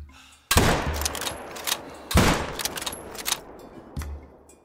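A rifle shot at a Cape Buffalo on the Vurhonga Savanna in the hunting game theHunter: a few sharp, loud cracks with booming tails ring out in sequence, each decaying into a lingering echo, with no talking.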